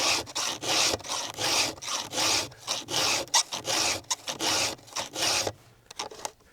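A file rasps across a Stihl chainsaw chain in quick, steady back-and-forth strokes, each stroke a short, bright scrape with brief gaps between; close and fairly loud, with no voices.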